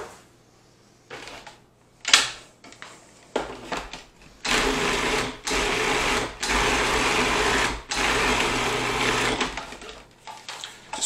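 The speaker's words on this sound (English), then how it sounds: "Just gonna blend it together." Blender whirring in short bursts, then longer steady runs, mixing keto pickle popper filling in a kitchen; a loud motor whine with brief pauses between pulses.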